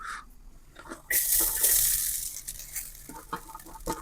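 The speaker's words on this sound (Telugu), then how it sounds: "ఇందులో ఇప్పుడు మనం ముందుగా తీసుకున్న కొంచెం రైస్ వేసుకుందాం" Cooked rice with eggs fries in a pan, with a sudden loud sizzle burst followed by scraping and stirring clatter that fades somewhat, with no talk.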